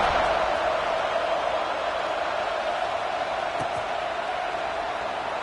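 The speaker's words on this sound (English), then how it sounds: "this crowd is buzzing after that last score" A football stadium crowd buzzes after a score as a steady, distant roar that holds even and unbroken throughout. No single voices or cheers stand out.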